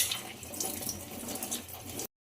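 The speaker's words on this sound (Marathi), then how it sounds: "आता धुवून घेते, स्वच्छ धुवून घेते." Fenugreek leaves rinsed under running tap water in a kitchen, close and continuous splashing and swishing that stops abruptly at the end.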